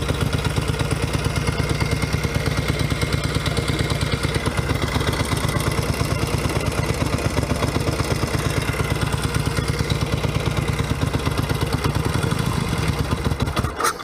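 A 1964 Royal Enfield Interceptor 750 engine idles close by with a steady, fast mechanical pulse and clatter, holding an even rhythm throughout with a slight rise near the end and no talking.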